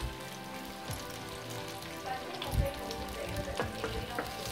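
Curry leaves, green chillies and shallots frying in hot oil for a fish curry, a steady crackling sizzle with occasional stirring scrapes, moderately close and fairly quiet.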